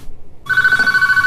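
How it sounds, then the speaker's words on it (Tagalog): A cellphone rings suddenly out of near silence with a bright, steady electronic ringtone trill, loud and close, holding on without a break. "Sino ti umawag iti cellphone ko?"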